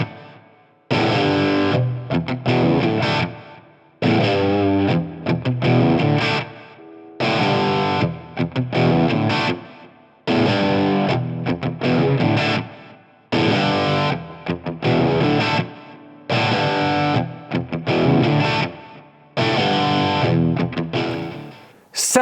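Fender American Professional Classic Telecaster electric guitar played with distortion, loud repeated chord phrases in bursts about two seconds long, broken by short gaps.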